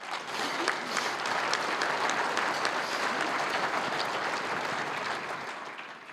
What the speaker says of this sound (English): Please give these honorees a round of applause